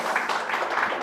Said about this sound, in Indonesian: Beri tepuk tangan dulu saudara ya